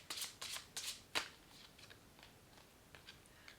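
Tarot cards being shuffled by hand, a run of quick crisp riffles and flicks up front, then lighter, sparser card rustles, close and fairly quiet with no talking.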